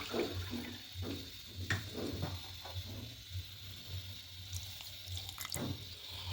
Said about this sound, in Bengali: এবার টক দইয়ের কাপটার মধ্যে একটু জল নেব, জল নেবের মধ্যে দিয়ে দেব।